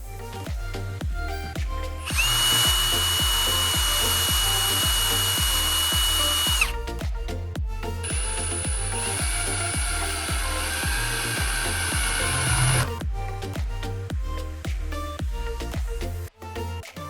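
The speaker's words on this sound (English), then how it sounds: "just drill little holes in so we can insert the screws in" A power drill whines loudly in two long bursts, boring into wood, separated by brief pauses with knocking and handling sounds between them.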